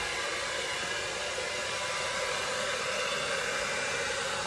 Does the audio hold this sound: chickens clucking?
no